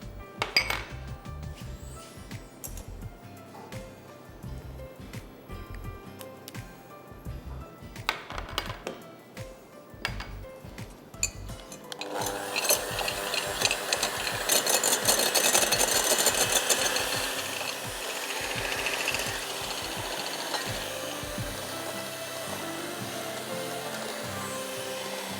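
Sugar and eggs being mixed for a five spice cake: clinking utensil strokes against a bowl, then an electric mixer whirs loudly and steadily close by for the second half.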